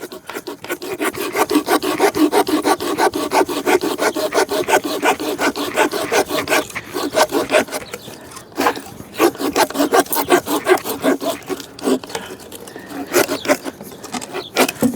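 A small hand saw rasps through wood in quick, steady back-and-forth strokes, close up, with a few brief pauses.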